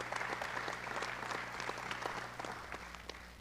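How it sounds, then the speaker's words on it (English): An audience applauds a woman panelist at a corporate wellness event in Little Rock, a steady moderate wash of many hands clapping that tapers slightly toward the end, with no talking over it. "Let's give her a big round of applause"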